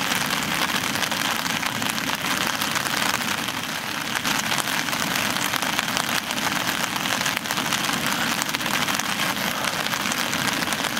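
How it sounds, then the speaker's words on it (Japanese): Steady rain falling at a solo campsite in Kasukawa in June, a loud, unbroken hiss and patter of drops striking a nearby surface, continuous throughout without talk. "雨は降ってるけど、まあ濡れはしないんでね大丈夫ですし"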